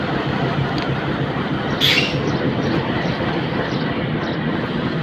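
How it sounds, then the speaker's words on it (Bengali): The Surma Mail, a small local train, stands at Narsundi railway station in Bangladesh, giving off a steady loud rumble and hiss, with a brief higher squeal or hiss near the middle. "এই যে নরসুন্দি রেল স্টেশনে এক নাম্বার লাইনে দাঁড়িয়ে আছে সরুয়া মেল ট্রেনটি"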